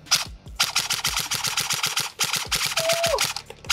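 A Zion Arms R15 M4 airsoft AEG rifle fires in long full-auto bursts, a loud, close, rapid mechanical clatter broken by short pauses, with a brief whine near the end.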